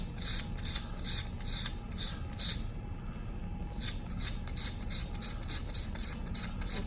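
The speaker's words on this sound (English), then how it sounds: "with sandpaper to expose metallic magnesium" Magnesium strip rubbed with sandpaper to clean its surface, quick repeated back-and-forth scratchy strokes in bursts with a brief pause midway, close up.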